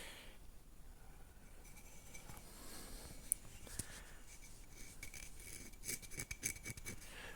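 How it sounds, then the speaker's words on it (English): Light sandpaper rubbing rust off the clutch cup of a Nibbi G619 walk-behind tractor, a soft continuous rasping that grows into quicker, scratchier strokes near the end, close and fairly quiet. "Maybe just some light sandpaper action."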